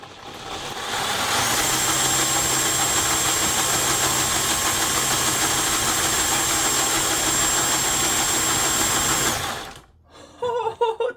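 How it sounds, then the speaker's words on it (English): A 3D-printed high-ratio gearbox spins in high gear, driven by an impact driver: a loud, steady whining motor hum with a high tone lasting about eight seconds, then it cuts off and a few short sounds follow. "This impact driver here does not have the highest RPM."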